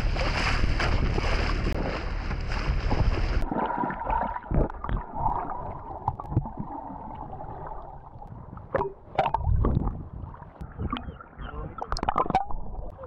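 A small dinghy motoring out from a boat for snorkeling, with loud wind and engine rush that drops away partway through, leaving water splashes, knocks and thumps around the hull.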